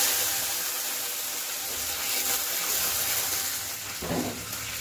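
Water pours into a hot pan of chillies, curry leaves and sesame seeds, giving a steady broadband hiss and sizzle that swells briefly near the end.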